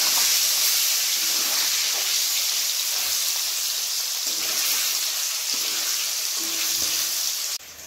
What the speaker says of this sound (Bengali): তেল গরম হয়ে গেছে, পনির ভেজে নিচ্ছি।